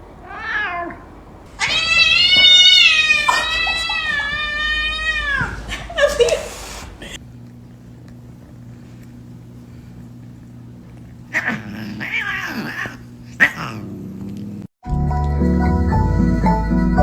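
A cat lets out long, drawn-out meows and caterwauling wails, loud and close, followed by quieter hums and bursts of noise, with people talking around it.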